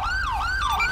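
An ambulance siren wails in a GTA V police patrol mod, a loud, close, rapidly rising and falling electronic tone repeating without pause.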